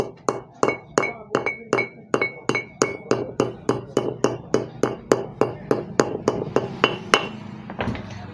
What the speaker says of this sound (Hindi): अब ऑयल सील को ठोक दो।